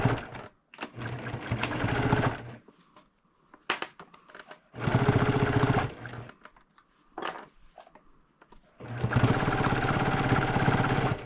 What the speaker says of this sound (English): So now for doing a top stitch around